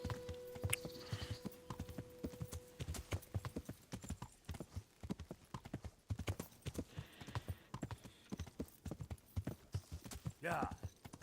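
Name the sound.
horse hooves galloping in the video game Kingdom Come: Deliverance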